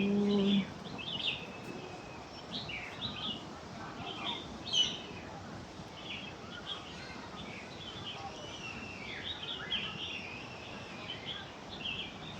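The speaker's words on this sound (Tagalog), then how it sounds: "Mga ibon lang talaga ang naririnig mo." Birds chirp and twitter continuously at a distance in Hong Kong Park, many small calls overlapping against a soft outdoor hush, faint and unhurried.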